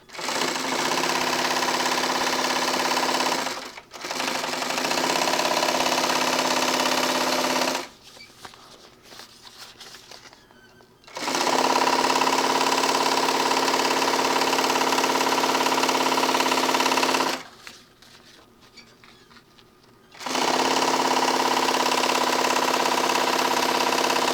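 Sewing machine stitching binding onto a tech kit pocket, loud continuous whirring runs stopping and starting three times with quieter handling noise in the pauses.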